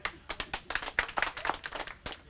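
Scattered hand clapping from a small audience at an outdoor political interview show during the Bihar elections, a short, uneven burst of claps close to the microphone.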